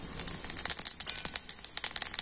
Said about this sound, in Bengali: এবার আমি তেলের মধ্যে দিয়ে দেবো অল্প একটু 5 ফোড়ন।